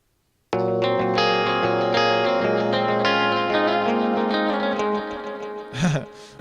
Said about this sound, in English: And we got some clean guitars. The clean guitars are here.